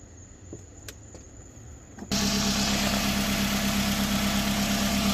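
A 2009 Toyota Camry SE, fresh from an oil change, fires up after a few quiet clicks and settles into a loud, steady idle with a constant low hum close by, no talking.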